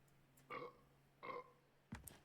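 Burping in the video game Far Cry 3, three separate belches spaced roughly evenly, moderately loud over a quiet background hum, with no talk.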